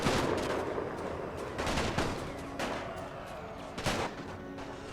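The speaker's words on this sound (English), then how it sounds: "Move into better positions within the house to actually return fire on the enemy" Dense rifle and machine-gun fire from a house skirmish in The Great War 6.0, with repeated sharp volleys over a steady crackling battle bed, loud and close throughout.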